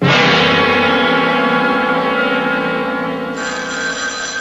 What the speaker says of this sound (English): That must be Carl. Do you want to answer it